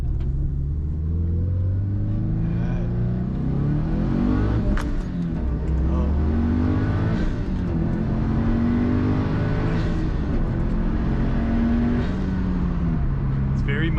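Continuous, loud engine roar from a 2007 Subaru WRX running on a dyno, its pitch sweeping up and down through several revving pulls with rumbling, throaty exhaust tone.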